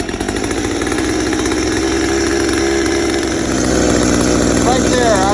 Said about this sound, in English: The first thing I like to do before we start cutting is warm our chainsaws up.